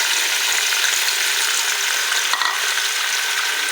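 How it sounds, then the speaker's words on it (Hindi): Chopped onions sizzle steadily in a cup of hot oil for a mutton and potato gravy, a loud, dense, continuous frying hiss with brief crackles, close up and with no talking. "1 कप हमने ऑयल लिया है, तो ऑयल हमारा गर्म हो चुका है, तो अब हम इसमें ये प्याज डालेंगे।"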